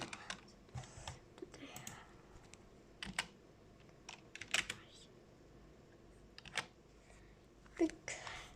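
Computer keyboard keys tapped in short irregular bursts while entering a password to log in to Epic Games, fairly close and quiet, with scattered clicks and pauses between keystrokes.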